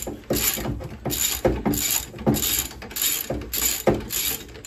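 A wrench ratchets on the top 17 mm bolts of a VW Beetle front axle beam, loud and close, with repeated bursts of rapid clicking about once a second.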